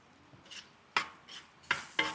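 A spatula stirs and scrapes eggplant in a pan for tava bharit on a wood-fired stove, giving several sharp, separate scraping strokes over a faint sizzle, close by and fairly quiet, with no talking.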